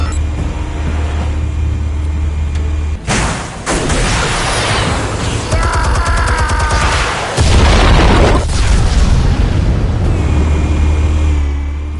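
Explosives going off in a Batman video game: a sudden loud broadband blast around the third second, a rumbling stretch, then a second heavy burst near the seventh second, all over a constant low game drone, with no talking.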